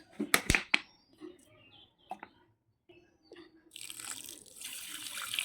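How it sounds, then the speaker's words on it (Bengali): Water trickles and splashes softly into a pan while making sugar syrup for khaja, a quiet steady pour following some faint clinks and household sounds. "একটুখানি আমি জল দিয়ে দিলাম"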